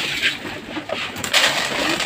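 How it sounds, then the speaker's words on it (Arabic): Hungry pigeons coo close by while feeding, with soft throaty calls coming in a couple of short bursts over light rustling. "لسه برضو الحمام جعان."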